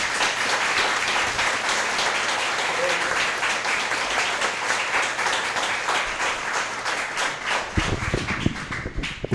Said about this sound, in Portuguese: Ele merece uma salva de palmas.